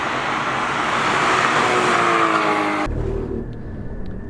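A Porsche GT car drives hard, its engine note rising steadily through the rev range before cutting abruptly to a quieter idle-like hum, loud and close with no talk.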